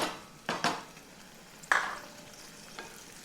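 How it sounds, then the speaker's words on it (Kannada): Finely chopped tomato frying in oil in a pan, with a few close, distinct stirring scrapes and clinks over a faint sizzle, quiet between strokes, no talk. "ಈಗ ಇದನ್ನು ಎಣ್ಣೆಯಲ್ಲಿ ಚೆನ್ನಾಗಿ ಮೆತ್ತಗಾಗುವವರೆಗೂ ಹುರಿಬೇಕು"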